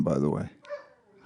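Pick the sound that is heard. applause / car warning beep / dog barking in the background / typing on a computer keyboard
dog barking in the background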